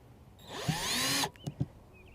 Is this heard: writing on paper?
no